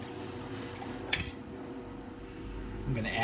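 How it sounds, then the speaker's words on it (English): Stirring electrolyte solution in a silver refining cell, a steady low swirl with a sharp clink of the stirrer against the container partway through, close and alone. "And then let's give this a stir to make sure it's all mixed well in our silver cell."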